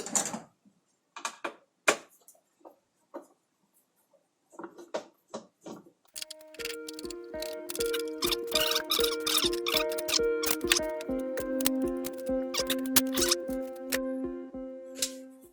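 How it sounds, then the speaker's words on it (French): Apple Lisa keyboard being taken apart with a Phillips screwdriver: a few sparse clicks and taps at first, then a steady run of dense rattling, ticking plastic clatter and small metallic clicks up close. "je vais commencer dans le fond par ouvrir le dit clavier. Puis ça se fait facilement avec tournevis étoile."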